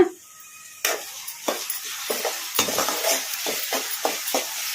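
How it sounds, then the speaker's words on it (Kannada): Chopped onions fry in hot oil for chicken fry while being stirred, a steady sizzle broken by repeated scraping strokes of a spoon against the pan, close and clear with no talking. "ಈ ಥರ ಕಲಿಸ್ಕೊಂತ ಫ್ರೈ ಮಾಡ್ಕೊಂಬಿಡೋಣ"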